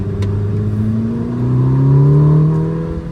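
Ferrari 849 Testarossa engine pulls hard on Sonoma Raceway, a loud steady drone rising in pitch as the car accelerates out of a corner, heard from the cabin with no talk.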